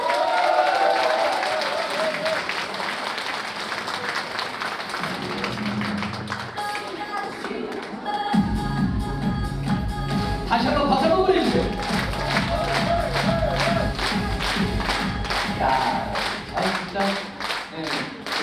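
An audience at a Korean pumba troupe's founding festival claps along in rhythmic bursts, mixed with music and some cheering, fairly loud and continuous throughout.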